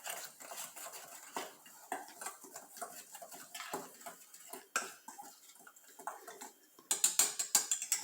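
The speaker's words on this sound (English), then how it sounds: "now I get my whisk and mix that up" Flour, baking powder and salt whisked in a bowl for cupcake batter: quick, close ticking and scraping strokes of a whisk against the bowl that get faster and louder toward the end.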